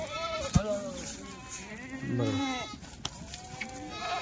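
Goats bleating on a farm where a male goat stands nearby, several wavering bleats overlapping at close range with rustling livestock around and a person speaking briefly.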